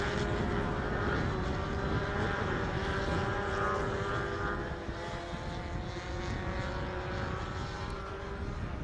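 Race cars with 4-cylinder Maruti Suzuki engines at an Indian national car racing championship, heard as a loud, continuous engine drone that holds steady and then eases slightly, with no voices.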